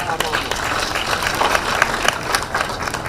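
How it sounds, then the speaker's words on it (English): An outdoor crowd at a public gathering in Mombasa claps, a dense scattered patter of many hands holding steady at moderate loudness, with voices faintly mixed in. "If you can clap a bit"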